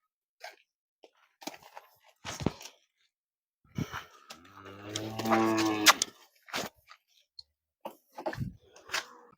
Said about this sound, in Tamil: 10 மாடுகள் வச்சிருக்காருங்க ஐயா.